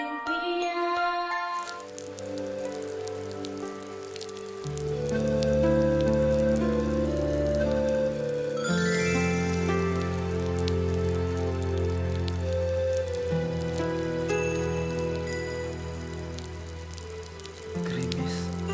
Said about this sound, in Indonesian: Bapak mendengar rintik hujan.